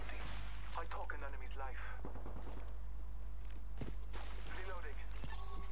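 Bursts of gunfire from the video game Apex Legends, sharp broadband cracks scattered through the clip over a steady low hum, with a player talking over the shots.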